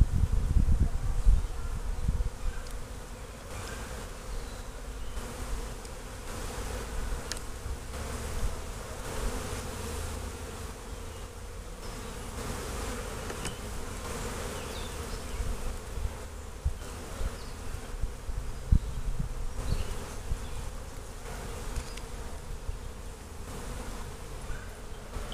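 Honeybees in an 18-frame long hive buzz steadily and close throughout an inspection, a dense continuous drone with no talking.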